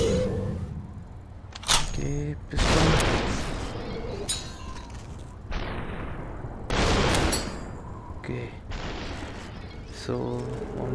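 Bursts of gunfire in the VR game Superhot VR at a construction yard level, sharp repeated shots punctuating the action, loud and close, mixed with talking from a player.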